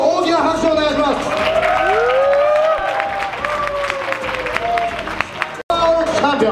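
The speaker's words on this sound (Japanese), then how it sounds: "皆さんもう一度大きな拍手をお願いします。" Applause and cheering from the crowd at the Beef Sasaki Classic 2016 bodybuilding contest as the overall champion is announced, a dense steady wash mixed with an announcer's voice and tonal music throughout.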